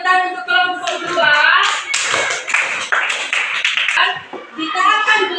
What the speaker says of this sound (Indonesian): Baik, tepuk tangan untuk kelompok 2.